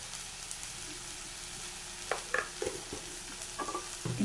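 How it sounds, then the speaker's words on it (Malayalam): Achinga payar thoran, a long bean stir-fry, being stirred in a pan with a steady faint sizzle and a few soft spoon scrapes toward the end. "ഇത് നന്നായിട്ടൊന്ന് ഇളക്കാം"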